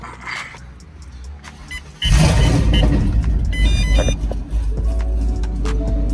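A car engine cranks and catches abruptly, then settles into a loud, rough idle that keeps rumbling steadily nearby.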